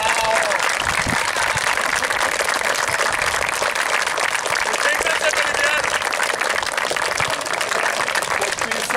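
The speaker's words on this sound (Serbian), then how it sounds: "jednu molbu da jednim aplauzom jednog dečka nagradite koji je sinoć dobio još jednog brata" A crowd at a youth under-9 football tournament award ceremony gives loud, sustained applause, dense clapping filling the whole stretch with some voices mixed in.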